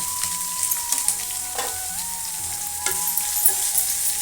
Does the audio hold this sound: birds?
no